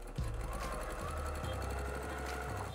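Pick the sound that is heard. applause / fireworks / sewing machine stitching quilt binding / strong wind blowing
sewing machine stitching quilt binding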